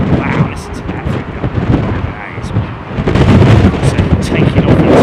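An Air Serbia airliner takes off into stormy, gusty wind at London Heathrow, a loud, rough jet roar buffeted by wind rumble against the microphone, swelling heavier in the second half.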